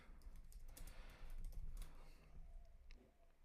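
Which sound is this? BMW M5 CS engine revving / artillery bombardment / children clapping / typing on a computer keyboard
typing on a computer keyboard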